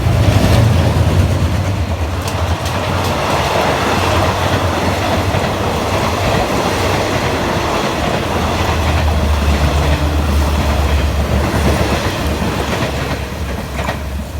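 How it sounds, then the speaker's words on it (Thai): Rapid train 171, hauled by Hitachi locomotive 4507 from Bangkok toward Sungai Kolok, rumbles past close by in stormy weather, its wheels clattering rhythmically over the rails with a steady heavy drone throughout. "171 นะครับ ผ่าพายุมาเลยครับ วันนี้ทำขบวนโดยฮิตาชิ4507"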